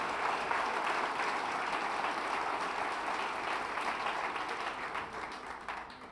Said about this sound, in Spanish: denle ese aplauso a nuestro Señor